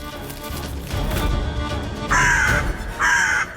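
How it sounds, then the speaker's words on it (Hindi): Two loud, harsh crow caws ring out close by in quick succession over a low rumbling background. "अरे वो कौवा है, कौवा।"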